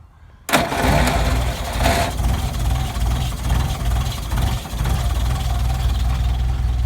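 A Willys jeep flathead engine cold-starts with the choke in, a sudden crank and catch followed by a loud, rough, rumbling idle that stays steady and close.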